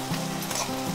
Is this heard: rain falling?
no